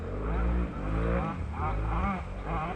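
A quad ATV engine drones and revs in waves as a rider approaches at a GNCC off-road racing test camp, loud and fairly near, with a voice talking faintly underneath.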